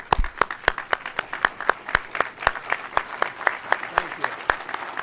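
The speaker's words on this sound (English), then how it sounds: "giving the delegation a hearty round of applause" A steady round of clapping at a representative town meeting, sharp claps at a brisk, even rhythm from a small group, fairly close and filling the whole stretch.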